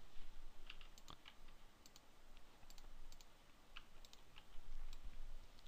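Quick mouse clicks while modeling in Rhino 3D software, several light, sharp clicks scattered across a quiet background.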